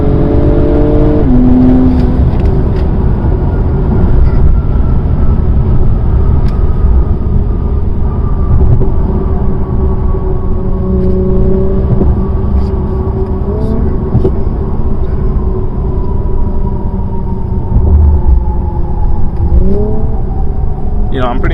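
A 2021 Acura TLX Type S turbo engine and exhaust hum and rise through gears while driving, loud steady cabin drone with repeated climbing pitches and shifts.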